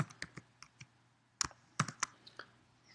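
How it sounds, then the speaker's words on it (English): Keys clack on a computer keyboard while a formula is typed into a spreadsheet, sharp irregular clicks in short bursts with brief pauses, close and quiet, with no talking. "then start typing normal distribution"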